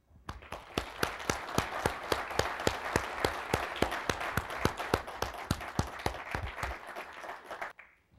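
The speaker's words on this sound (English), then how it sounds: "give a big round of applause" Audience applause at a live press conference, steady dense clapping from a crowd lasting several seconds before stopping abruptly, no talk over it.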